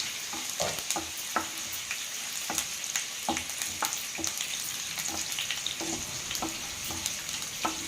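Mustard seeds, cumin, chana dal and dry red chillies fry in hot oil for a tempering, giving a steady crackling sizzle with sharp spattering pops throughout, close and fairly loud, with no talk.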